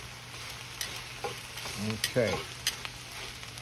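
Spinach and garlic sautéing in a skillet, a soft continuous sizzle broken by scraping stirs and a few light clinks, with one short spoken word.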